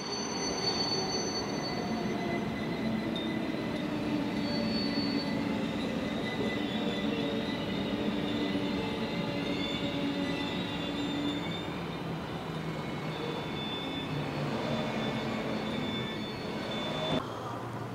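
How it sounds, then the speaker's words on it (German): A Swiss RE460 electric locomotive hauling a double-deck train rolls into Spiez station, a steady loud rumble of wheels on rails with high, sustained flange squeal and whining tones throughout, no talking. "Kommt eine RE460 mit einem Doppelstockpark hier rein."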